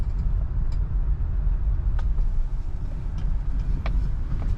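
A 1978 Lincoln Continental Mk V Designer Series cruises on a highway, with a steady low engine and road rumble heard from inside the cabin and faint light ticks and rattles scattered over it.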